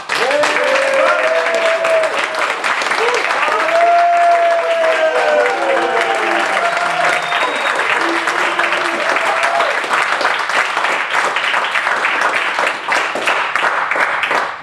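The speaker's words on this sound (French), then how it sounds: "vous allez me montrer ce que peut donner éventuellement un tonnerre d'applaudissements" An audience at an open-mic slam show in a youth and culture centre in Lamballe claps loudly and continuously, a dense roar of applause with some scattered shouts and cheers mixed in.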